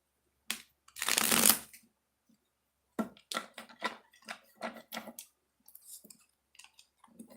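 Playing cards being shuffled nearby: one long riffle followed by a series of shorter, crisp flicking bursts.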